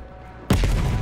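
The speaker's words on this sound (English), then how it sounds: "At the fork, you followed the road right toward the sound of gunfire." Gunfire from the Call of Duty: Black Ops Cold War campaign arrives as a sudden loud burst of rapid shots after a quiet moment.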